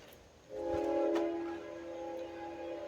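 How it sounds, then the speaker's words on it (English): Train on nearby tracks beside a dumpster area: a sustained, fairly loud horn blast of about a second, followed by a steady rolling rumble as it continues past. "Oh, here comes a train."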